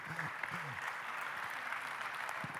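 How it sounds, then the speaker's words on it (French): Brief applause from a conference audience at an agricultural cooperative congress, a moderate, fairly steady patter of clapping with a few low murmurs underneath. "qu'est-ce que je peux dire à part demander qu'on vous applaudisse?"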